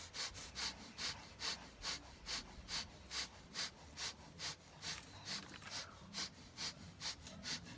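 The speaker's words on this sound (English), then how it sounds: "Now start a breath of fire." Kundalini yoga breath of fire: rapid, rhythmic forced breathing through the nose at about two to three breaths per second. The puffs are close and even and continue without pause, with no talking.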